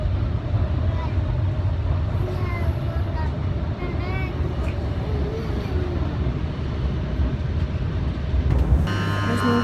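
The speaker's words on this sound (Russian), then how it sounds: "Добралась я сюда сегодня на метро, и сейчас покажу вам, как это было." A Milan metro train in motion, heard from inside the carriage as a continuous loud rumble with thin squeals from the wheels and faint background voices, ending with a brief tonal chime.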